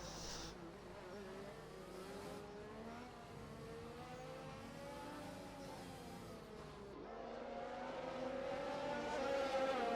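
Race cars in an online sim racing league final at Abu Dhabi, a Ferrari chased by two McLarens, roar steadily with engine notes rising and shifting, the pitch climbing toward the end, with no talk over it.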